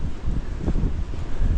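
Gusty wind buffeting the microphone on a clifftop walk at Bray Head in County Wicklow, a loud rumbling roar that swells and dips continuously throughout, with no voices.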